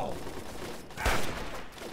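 A single gunshot burst from a weapon in the video game Fallout 3, sharp and fairly close, rising out of a steady bed of game ambience with someone talking around it.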